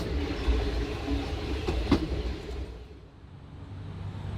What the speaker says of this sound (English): I found myself on a northbound train headed to the outskirts